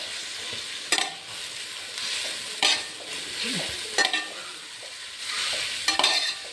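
Sliced big onions with a pinch of salt frying for a chicken curry, a steady close hiss broken by several sharp scraping strokes of a spatula stirring the pan, with no voices.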